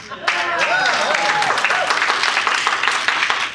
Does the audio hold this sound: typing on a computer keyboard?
no